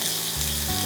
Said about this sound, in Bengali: আমি এই গরম তেলটার মধ্যে পুরোটাই দিয়ে দেব